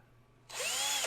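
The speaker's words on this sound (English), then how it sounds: "The smoke is coming off the drill bit." A power drill spins up abruptly and whines steadily as it bores into a resin model kit for pinning, a short, close, high-pitched burst with the motor pitch rising as it runs.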